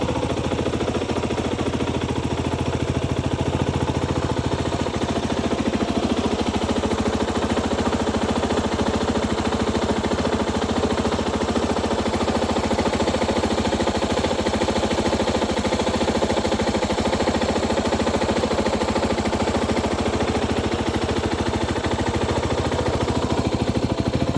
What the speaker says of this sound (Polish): Tu mamy dowód na to, że jest świeżo odpalony motocykl.